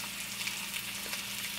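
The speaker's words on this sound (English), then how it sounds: "With the sizzle of the butter, the scallop and bacon." Close, steady sizzling and crackling of bacon-wrapped scallops frying in butter in a hot pan, continuous and even with no voices.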